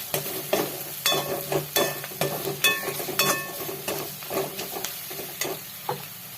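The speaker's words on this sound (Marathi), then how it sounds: "चांगलं मिक्स करून घेऊ." Spoon stirring garam masala and chili powder into chicken biryani in a hot pan, repeated scraping strokes over a steady sizzle, close and fairly loud with no talking.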